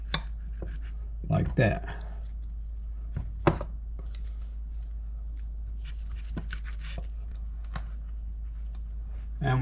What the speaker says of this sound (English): We're making bite-sized slices